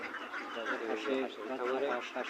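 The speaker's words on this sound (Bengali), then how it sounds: "সকালবেলা হাঁসের খাওয়ান দেওয়া হচ্ছে" Several ducks quack in quick, overlapping bursts close by during morning feeding on a farm, a busy chattering chorus with a human voice mixed in.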